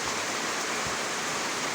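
Steady, dense rain pours down outdoors as a continuous, loud hiss with no breaks and no voices.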